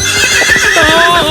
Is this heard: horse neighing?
yes